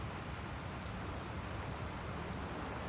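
Steady rain falls in the farming video game Landwirtschafts-Simulator 19, a dense, even hiss of drops with no talk.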